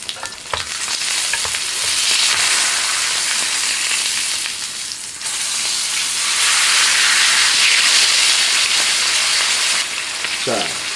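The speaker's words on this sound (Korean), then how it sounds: "잘 구워지고 있죠. 이제 튀기듯, 오늘은 튀기듯 굽는 겁니다." Loud, steady sizzling of an L-bone steak frying in hot fat fills the clip, with a brief dip midway and faint movement noises.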